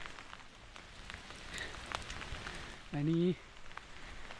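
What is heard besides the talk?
continuous rain falling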